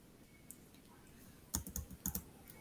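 Short bursts of typing on a computer keyboard, a few quick clustered keystrokes near the end after a quiet pause, close and fairly soft with no talking.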